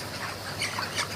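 Broiler chickens in a poultry shed during hot weather give a few short, scattered squawks and clucks at moderate distance over a steady background hum.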